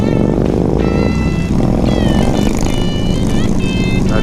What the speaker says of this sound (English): Somebody revving their engine to show us how cool they are.